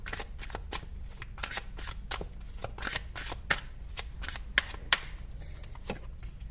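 A tarot deck being shuffled by hand, giving a steady run of close, crisp riffling flutters with a few sharper card snaps, alone and with no talk.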